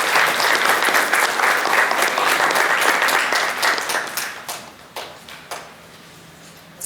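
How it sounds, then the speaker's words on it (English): Audience applause for the volunteers at a kindness event, full and steady for about four seconds, then tapering into a few scattered claps and near quiet. "why don't you give those people in the back a round of applause"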